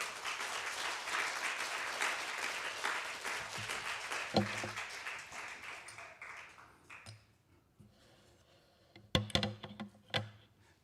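Congregation in a church revival service applauding in thanks, a full round of clapping that gradually fades out, followed by a few scattered taps and knocks in the quieter room.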